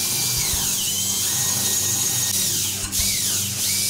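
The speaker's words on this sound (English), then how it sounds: "using an 1/8 inch bit and a portable drill, we're just going to drill those out first" A portable drill fitted with a 1/8 inch bit bores out a rivet on a Whirlpool refrigerator drawer assembly, a steady close whine with a brief dip near the end as the bit breaks through.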